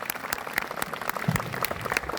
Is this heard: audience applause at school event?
yes